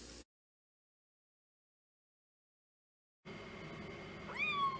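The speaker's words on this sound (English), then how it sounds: "Here is the partially masked kitty" Cat meows near the end of a short, quiet indoor stretch, a rising then falling wail over soft background noise after a long silent gap.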